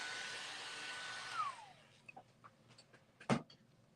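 A hair dryer blows with a steady loud rushing hiss that fades out over the first two seconds, followed by scattered small clicks and a sharp tap.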